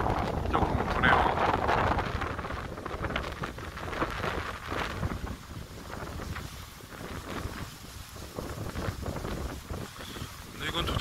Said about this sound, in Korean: 바람만 조금 불고 특별할 거 없는 그런 태풍이네요